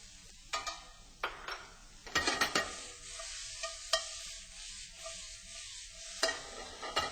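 Chinese long beans and minced shallots warming in a hot pan, with a steady soft sizzle broken by several sharp scrapes and clatters of a utensil stirring against the pan, close and without voices.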